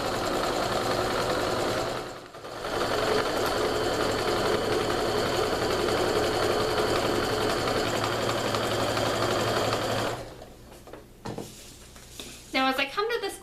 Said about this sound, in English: So I'm getting those stitches reinforced and then just sewing right on down.